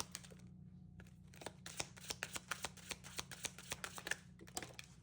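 Hidden truth oracle cards are riffled and shuffled close by in a quiet room, giving soft rapid flutters and a run of crisp card snaps that grow steadier toward the end.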